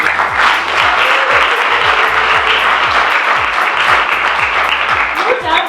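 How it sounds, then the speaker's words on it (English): An audience claps at a 2023 skills development program graduation ceremony, a loud, dense and sustained round of applause from a large crowd filling the room. "Can you give them a round of applause?"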